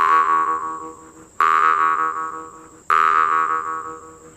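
A jaw harp played with added breath gives three long, twangy, buzzing plucks at a steady pace, each ringing out and slowly fading, close and loud with no talk over them.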